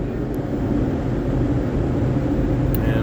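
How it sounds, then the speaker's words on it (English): Car wash drying blowers roar at full force around a vehicle, a loud, steady, broadband rushing hum that fills the whole stretch without letting up. "now we're gonna get 60 seconds of drying time, which the blowers are just gonna start up, so it'll get a little noisy"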